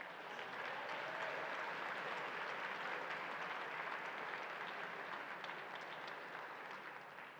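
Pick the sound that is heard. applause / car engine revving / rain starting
applause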